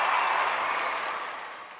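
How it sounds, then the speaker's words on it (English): Audience applause for a performer named Ben fills the room, a dense steady wash of many hands clapping at close range that slowly fades toward the end. "let me get this applause out"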